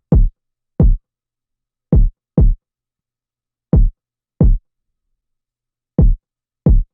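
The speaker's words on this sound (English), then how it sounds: "The first one I added was just this basic kick pattern right here." Deep, punchy kick drum hits play alone in a sparse repeating pattern, single and paired thumps separated by silence.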